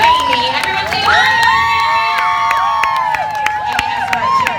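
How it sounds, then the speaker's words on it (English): A crowd of adults and children cheers and shouts for finalists at a stunt competition, a loud, steady roar with whoops and high voices rising over it throughout, some speech mixed in. "Amy has her cheering section."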